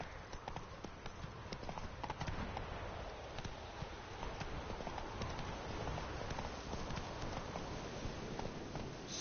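Roach the horse galloping in The Witcher 3: a steady, rhythmic clip-clop of hooves, fairly quiet and continuous throughout.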